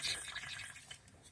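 A short burst of aerosol cleaner hisses onto an Edelbrock 1407 750 cfm carburetor during a budget rebuild, a steady, soft, close spray lasting about a second with no talking.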